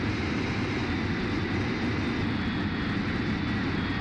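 An aircraft engine in the naval combat video game Warships Mobile 2 gives a steady, loud, continuous drone that fills the whole stretch without pause.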